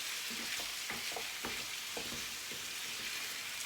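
Meat fries in a paella pan with a steady, bright sizzling hiss, while a wooden spatula stirs and scrapes through it in soft, irregular knocks, close and continuous.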